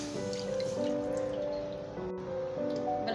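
A glass of milk poured into a pan for coconut burfi, a soft, continuous pouring and bubbling trickle over a few seconds, with no one speaking.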